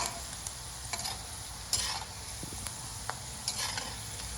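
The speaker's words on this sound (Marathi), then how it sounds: "आता आपण तेलामध्ये हिरवी मिरची टाकलेली आणि ती व्यवस्थितपणे फ्राय करून घेणार आहे." Green chillies frying in very hot oil for a Diwali murmure chiwda, giving a steady close sizzle with occasional sharper pops and light stirring scrapes throughout.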